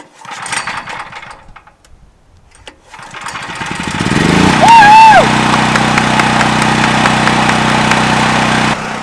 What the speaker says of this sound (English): We just filled it with oil, filled it with gas. Now we're gonna turn it on.